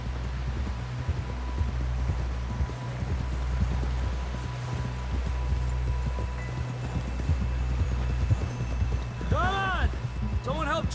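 Horse hooves clip-clop steadily in Red Dead Redemption 2 as a horse walks into camp, a continuous rhythmic plodding under rain and other in-game sounds.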